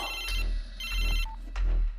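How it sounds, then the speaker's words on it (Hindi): A mobile phone ringtone chimes in short repeated electronic bursts, ringing clearly over a low background rumble. "अपना फोन उठा।"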